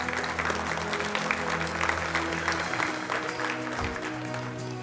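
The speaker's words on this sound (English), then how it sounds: "Let's give them a round of applause" Sustained applause from an audience honoring All-American youth baseball players at a 10U and 12U All-America Classic, steady clapping from many hands filling the room for several seconds.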